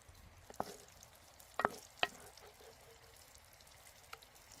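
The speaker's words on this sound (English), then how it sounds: "Ah, the beautiful sound of sizzling oil." Peppers fry in hot oil with a continuous soft sizzle broken by a few sharp crackles and pops, close and steady with no voices.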